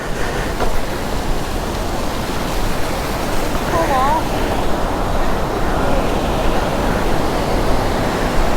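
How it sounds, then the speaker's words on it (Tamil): Honnamma Devi waterfall near Chikkamagaluru pours in a loud, steady broadband rush that fills the whole stretch, close and continuous, with a faint voice briefly audible underneath. "ஹோனமா தேவி ஃபால்ஸ்."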